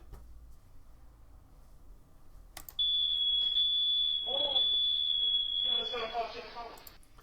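A home security alarm sounds as a loud, steady high-pitched electronic tone that starts abruptly and holds for about three seconds, with people talking underneath.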